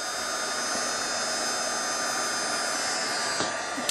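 A hair dryer runs continuously at close range, drying paint on a small canvas, a steady loud whooshing hum with a faint click near the end.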